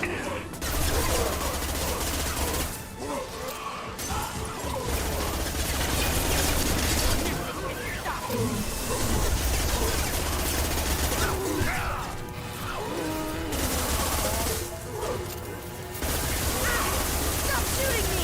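Enemy gunfire in the video game Mass Effect, clattering bursts and mechanical rattles running across a battle with loud, dense stretches broken by short lulls, under faint game voices.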